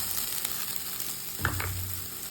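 Chicken fry masala for a Trivandrum-style chicken fry sizzles steadily in a pan, with a brief clatter and a burst of sizzle about midway as grated coconut goes in, then steady frying continues.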